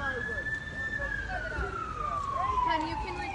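An ambulance siren wails, sweeping slowly downward in pitch, loud and steady over a rumbling engine and background noise, with a voice speaking underneath.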